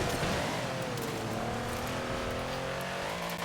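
A 6x6 off-road vehicle in Forza Horizon 4 drives steadily, its engine holding a continuous loud drone with gentle pitch shifts and no pauses, close up.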